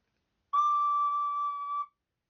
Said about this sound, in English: Also, I've got a recorder.